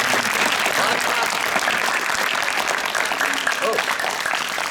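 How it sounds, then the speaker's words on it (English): Live audience applause at a podcast taping, a thick, steady wash of clapping filling the whole stretch. "Give yourselves a round of applause"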